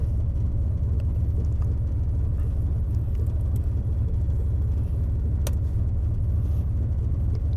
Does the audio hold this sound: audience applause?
no